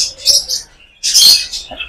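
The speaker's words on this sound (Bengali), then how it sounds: "আর এরা একটু চিৎকার চেঁচামেচি করতে বেশ স্বাচ্ছন্দ্য বোধ করে।" Exotic pet parrots in a breeder's shop give loud, shrill calls and screeches in two close bursts separated by a short pause, with no voices.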